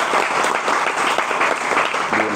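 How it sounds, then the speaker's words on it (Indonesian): A seminar audience gives a steady burst of lively applause for a speaker taking the stage, dense clapping filling the room without pause. "Tepuk tangannya dong yang meriah."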